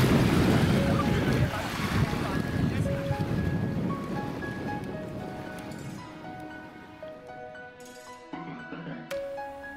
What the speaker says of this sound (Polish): świeża bryza od morza przynosi naprawdę ulgę